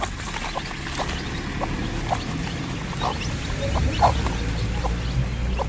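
A village hen clucks among her fourteen chicks, short soft clucks and peeps repeating every second or so near at hand over a rustling background, without talk.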